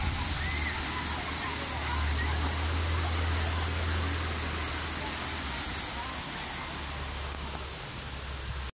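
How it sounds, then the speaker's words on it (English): Steady broadband rush of a waterfall falling into the Venetian Pool, loud and continuous, with a low rumble underneath and no clear voices. "This is how Venetianpool is with a waterfall."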